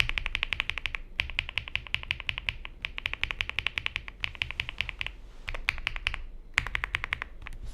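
Rapid typing on an Akko mechanical keyboard switch, crisp clacking keystrokes in fast runs with brief gaps, heard close and quiet with no voices.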